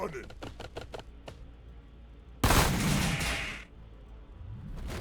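Bolt pistols firing in the Warhammer Battlesector strategy game: a quick run of sharp shots early on, then a loud burst of dense gunfire noise lasting about a second, with game speech and battle ambience around it.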